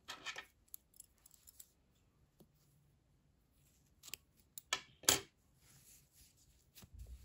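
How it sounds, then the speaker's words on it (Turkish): Scissors snip knitting yarn at the end of a sleeve, with a few quiet, close cutting clicks and one brighter snip, heard alone in a calm room. "İpliği kesiyorum."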